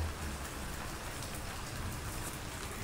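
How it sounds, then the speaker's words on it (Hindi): Steady, dense rain pours down continuously, a broad hiss of drops striking surfaces close by, with no voices. "अंदर भी आ रही है बारिश।"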